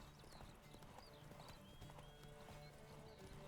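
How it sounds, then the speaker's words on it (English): Horse hooves clip-clop along a forest path in The Witcher 3 video game, a faint, steady patter of light hoofbeats under rustling game ambience with a brief whinny-like sound. "His horse is coming through."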